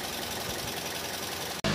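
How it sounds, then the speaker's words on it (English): A car engine idles smoothly after a PCV valve cleaning, a steady, moderate, even hum with a low pulse, heard alone and cut off abruptly at the very end. "Smooth yung idling niya."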